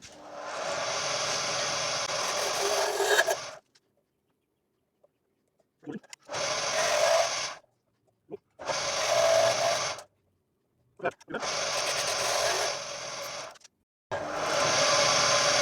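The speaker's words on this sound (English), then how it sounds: "just going to give it a bit of a sand on the outside" Repeated bursts of a whirring, rasping grind as sandpaper is held against a wooden mallet spinning on a lathe, several seconds each, separated by silent pauses.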